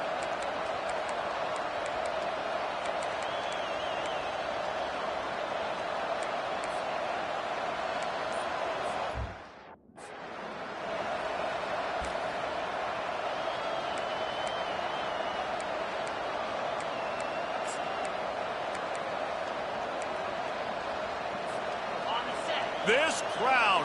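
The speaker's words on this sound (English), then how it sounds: "This crowd, full throat, spreading the eardrums" Crowd noise fills a football stadium at an Arkansas versus Tennessee game, a dense, steady roar that holds for most of the stretch and briefly cuts out near the middle before returning.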